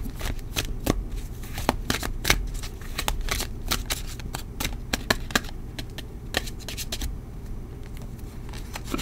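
Tarot cards being shuffled close up, a dense run of crisp snapping riffles and flicks repeating steadily for several seconds over a low background hum.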